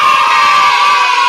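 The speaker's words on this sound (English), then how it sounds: "the kids even want to applaud you" A crowd of children cheers loudly in a brief, bright burst of shouting and whooping.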